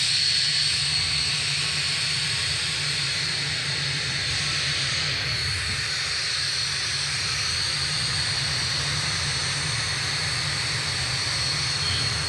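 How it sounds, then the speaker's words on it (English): Boom XB-1 supersonic jet's engines running at Mojave, California, a steady loud broadband roar and whine that holds evenly without pause. "The engines are going to be shutting down on XB-1 for the final time"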